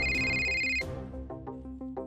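A telephone rings with a bright electronic ringtone, repeating tones that start loud and continue in a steady pulsing pattern, with no one speaking.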